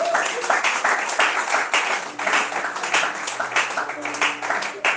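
A church congregation claps and cheers in praise, a dense, sustained wash of applause with uneven bursts filling the room, voices mixed into the crowd noise.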